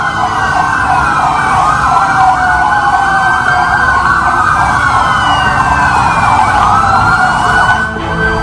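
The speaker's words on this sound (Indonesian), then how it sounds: "Lampu rotator dan suara sirine kendaraan taktis milik Densus dinyalakan seperti sedang menggelar suatu operasi" Police tactical vehicle sirens from a Densus convoy, loud and continuous with several wailing tones overlapping, recorded close by in an amateur street recording outside a government office gate.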